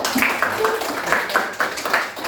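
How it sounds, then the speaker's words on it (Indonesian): Elementary classroom students clapping for a student group, a short burst of rhythmic, evenly spaced claps from a small group in a close, roomy space, with voices mixed in. "Tepuk tangan untuk kelompok 1."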